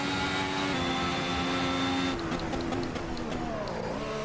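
A 2017 works Ferrari race car in Assetto Corsa holds a loud, steady engine drone, then shifts down with a series of brief stepped tones as it brakes into a corner.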